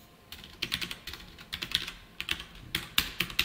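Rapid keystrokes on a computer keyboard while JavaScript code is typed in, an uneven run of close, crisp clicks in quick bursts with no voice.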